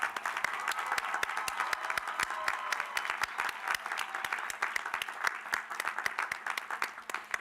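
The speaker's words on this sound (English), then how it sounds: "can we please give everyone who's helped make today possible a big round of applause?" Audience at a college commencement breaks into steady applause, many hands clapping at once in a dense, even patter that holds throughout at moderate distance.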